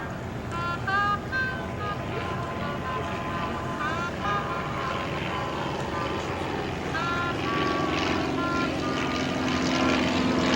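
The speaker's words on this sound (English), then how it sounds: "the L6 being flown by Jimmy Deere coming by right now" An L-6 L-bird propeller plane with a Franklin engine flies by at an airshow, its buzzing drone rising steadily in strength. A commentator talks over the engine the whole time.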